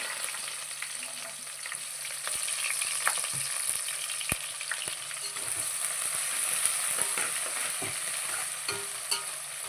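Onions and green chillies frying in oil for Nellore fish curry, a steady bright sizzle with scattered crackles and a few stirring taps, close and continuous with no voices.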